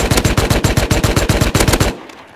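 Rapid automatic gunfire from a video game weapon, a loud, tight burst of evenly spaced shots lasting about two seconds before cutting off abruptly.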